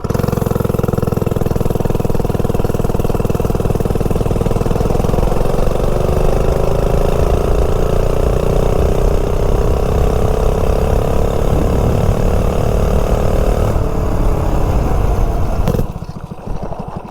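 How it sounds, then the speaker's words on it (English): A Coleman-powered micro minibike running on clear gas revs up loud and close, its engine note climbing steadily in pitch as it accelerates hard, then cutting off abruptly near the end. "0 to 30 clear gas in Coleman powered microbike."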